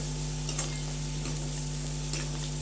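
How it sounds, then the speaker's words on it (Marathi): Onion and curry leaves sautéing in a pan, a steady close sizzle with soft stirring scrapes and a constant low hum underneath. "आता त्यामध्ये थोडासा कढीपत्ता टाकून परतून घ्यायचा आहे"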